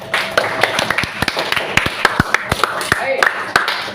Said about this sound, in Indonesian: Tepuk tangan dulu untuk kita semua.